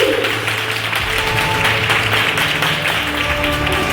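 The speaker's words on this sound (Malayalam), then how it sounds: "ശമരിയക്കാരി സ്ത്രീക്ക് കൊടുക്കാം കൈയടി." Applause from an audience at a Malayalam Christian fancy dress program for a contestant dressed as the Samaritan woman: steady, loud crowd clapping throughout, with some low background hum.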